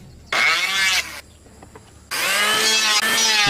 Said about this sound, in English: She cuts the timber that will form the roof support.